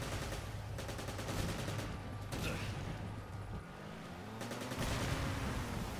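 Gunfire in the video game Resident Evil 5, rapid bursts of shots over a dense, continuous game soundscape, with a low droning rumble underneath and no talking.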